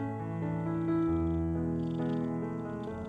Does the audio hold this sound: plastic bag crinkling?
no